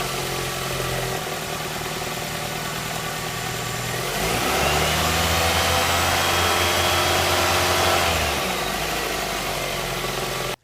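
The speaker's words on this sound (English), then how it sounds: "So I'll go ahead and start the engine." A Toyota RAV4 engine, cold, starts up and settles into a steady idle, a continuous mid-low engine drone that swells slightly near the middle of the clip and then holds before cutting off.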